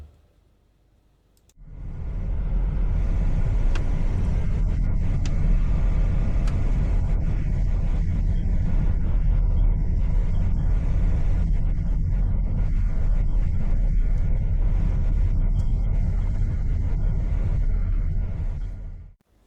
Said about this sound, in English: That is going to wrap up this POV drive of the 2026 Hyundai Kona Hybrid.